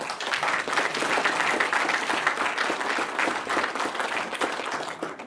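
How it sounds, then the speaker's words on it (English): Audience at a library groundbreaking ceremony applauding city staff, a full, steady round of clapping from a crowd that holds at an even level for the whole stretch. "Big round of applause to you all."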